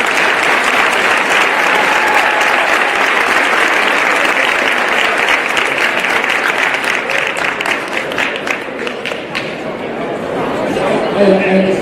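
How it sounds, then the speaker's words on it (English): A school crowd at a signing day gives a long, loud round of applause with steady dense clapping and some cheering and chatter, thinning out near the end as voices take over. "Let's give them one more round of applause."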